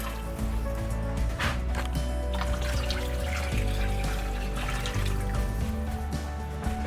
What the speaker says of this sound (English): now we're just going to fill this with water until that roast is covered